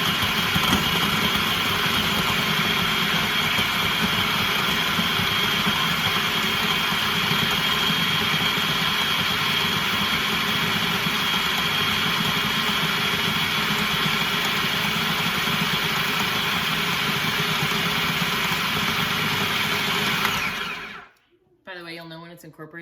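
A food processor pulses pecan sandie cookie dough in a steady, loud continuous whir for about twenty seconds, then cuts off abruptly into near quiet.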